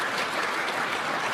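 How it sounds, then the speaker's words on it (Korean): A church congregation applauds the choir during a Christmas Sunday worship service, a dense, steady wash of many hands clapping close by, with no one speaking over it. "다시 한번 박수 보내주시기 바랍니다."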